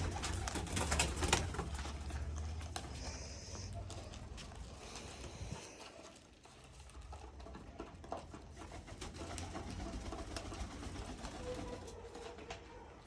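Pigeons cooing around a rooftop loft where they have come down to drink water, their low, rolling coos repeating steadily at close range over a muffled background murmur.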